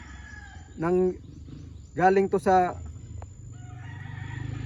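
Roosters crowing in a fighting-rooster yard, one crow followed by a longer pair of overlapping crows, close and loud, with someone talking quietly and low background noise.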